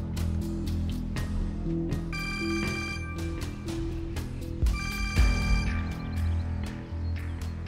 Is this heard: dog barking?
no